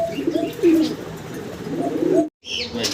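Pigeons cooing in low, rolling calls at a pigeon seller's, including a khaki pigeon with a chick, repeated several times nearby, with faint chirps and a brief gap of silence near the end.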